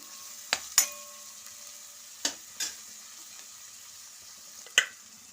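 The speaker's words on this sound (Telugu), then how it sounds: "ఉల్లిపాయలు వేగుతున్నాయి కదండి కొద్దిగా పసుపు వేసుకుంటున్నాను" Onions frying with turmeric in a pan, a faint steady sizzle broken by a few sharp scrapes and clinks as they are stirred.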